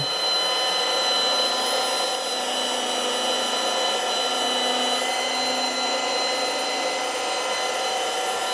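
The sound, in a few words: car polisher running at full speed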